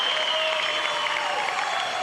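A crowd at a diving competition breaks into steady applause after a dive, a dense, even wash of clapping that holds throughout under a faint tone.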